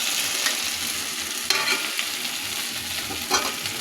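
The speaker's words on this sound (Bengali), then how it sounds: "এখন আমার ভেজে রাখা ফুলকপি আলুগুলো এতে দিয়ে দেব।" Fried cauliflower florets and potatoes tipped into a pan of well-cooked spice masala for a Bengali cauliflower fish curry, giving a steady, close sizzle with scraping and stirring throughout.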